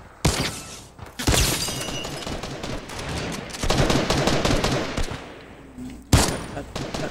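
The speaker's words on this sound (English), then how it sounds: "Is that someone shooting me behind the wall, mate?" Gunfire in Fortnite Battle Royale during a beach assault: loud bursts of rapid shots and scattered blasts, with several sharp onsets and no speech.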